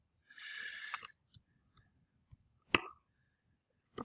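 Keys on a graphing calculator being pressed, a short burst of soft presses followed by several isolated clicks spaced apart, close and quiet in an otherwise silent room.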